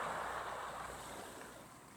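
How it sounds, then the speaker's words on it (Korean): Sea waves wash up and slide back over a pebble beach on Ido Iyapo beach, Yeosu, South Jeolla Province, a steady broadband roll of surf close by, slowly easing in loudness with no voices. "파도가 몽돌밭을 오르락 내리락 거립니다."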